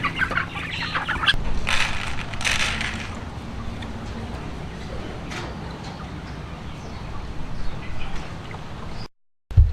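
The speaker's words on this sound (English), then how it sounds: "this is Lane and Emily's newest crop of 4-H chickens" Young 4-H laying hens cluck and squawk nearby in scattered bursts, with a brief dropout near the end before a final loud squawk.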